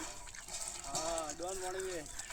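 Cold water flows from a hand pump with a steady splashing gush, while several people talk close by over the running water.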